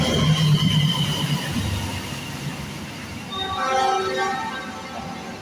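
A train rumbles past near an HF antenna tuner test, a broad rolling roar that swells and fades, with faint high squealing tones from the wheels near the end.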